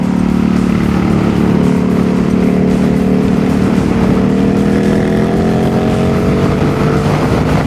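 An Indian FTR R 1200 Carbon motorcycle underway, its engine a continuous loud drone with a slowly rising pitch, mixed with heavy wind rush throughout.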